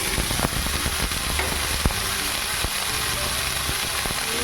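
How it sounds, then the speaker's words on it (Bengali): Potatoes frying in a pan after paneer pieces were fried, a steady broadband sizzle with scattered crackles and spits, close and fairly quiet, no talking. "এখন আমি ভেজে নেব আলুটা।"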